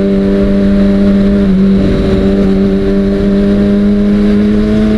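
A Kawasaki Ninja ZX-6R motorcycle accelerates hard to overtake, its engine a loud, steady, close high-pitched drone with a slight pitch rise, heavy wind rush underneath.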